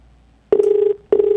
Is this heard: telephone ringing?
yes